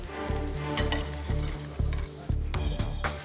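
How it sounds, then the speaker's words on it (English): Butter and olive oil sizzle steadily in a hot pan frying quail, with a low rhythmic pulsing and occasional louder bursts of spitting fat, close and fairly loud. "get them frying off in a fry pan with some butter and some olive oil"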